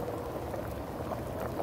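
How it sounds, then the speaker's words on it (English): Fish broth with okra bubbles steadily in a pot as kingfish pieces go in, a continuous close, soft simmering wash with no voices. "Now we're gonna add this kingfish."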